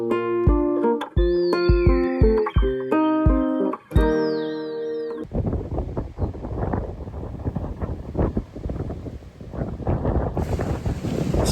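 Wind blowing outdoors on a breezy, hot May day in Minnesota: a steady, rough broadband rush buffets the microphone after a short stretch of tonal music and continues to the end.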